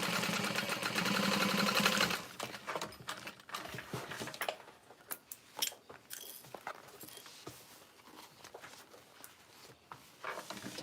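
A sewing machine top-stitches through the layers of a tote bag, a steady run of motor whir for about two seconds, then giving way to scattered clicks and handling noises.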